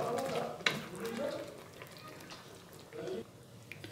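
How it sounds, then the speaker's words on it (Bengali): A spoon stirs matar paneer curry with chopped coriander in a pan, giving quiet scraping and a low sizzle in a few gentle strokes while someone speaks. "এবার 1/2 কাপ ধনেপাতা কুচোনো এর মধ্যে দিয়ে দিলাম। ভালো করে মিশিয়ে দিচ্ছি।"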